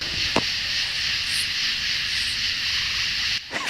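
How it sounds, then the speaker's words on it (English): Dense outdoor night chorus of insects, cicadas and frogs along an eBike ride route, a steady buzzing drone that continues throughout, with one brief knock near the start. "You hear all them bugs out here?"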